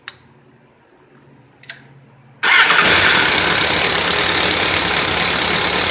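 A Suzuki GSX1100G motorcycle engine fires up after a couple of faint clicks, then settles into a loud, steady running roar close by.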